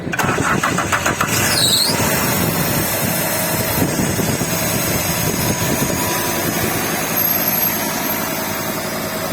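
A Fiat Tipo 2.4 20V five-cylinder engine cranks briefly and catches, settling into a loud, steady idle that runs to the end without any talk.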